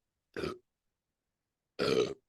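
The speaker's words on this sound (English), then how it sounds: "I had to burp too because this coffee's starting to hit" Two close burps after drinking coffee, a short one followed by a longer, louder one, separated by silence.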